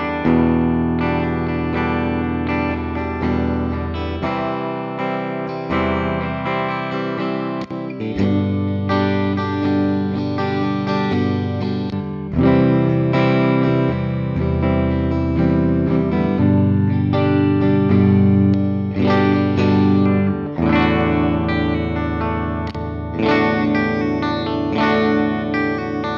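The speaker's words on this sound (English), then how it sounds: "really digging the clean tones out of this one tonight. That neck pickup is so juicy." A 1982 Gibson Les Paul Artisan electric guitar played on its clean neck pickup, running through effects such as chorus and echo, with sustained chords and melodic lines that continue steadily and loudly throughout, with no talking.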